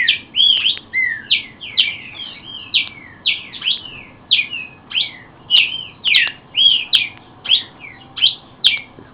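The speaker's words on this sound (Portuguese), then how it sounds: "Aí a minha fêmea de pichoxó tratando os filhotes." Female pixoxó finch tending her chicks in a breeding cage, a loud, close series of sharp chirps and whistled notes repeating in regular pulses, with no other sounds over them.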